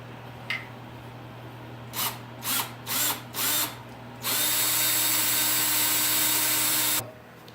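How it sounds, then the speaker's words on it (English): A power drill bores screw holes in wooden supports for a low-budget game cart, with four short bursts followed by one long sustained whine, close and loud, no talking. "that's where I'm going to drill for my screws"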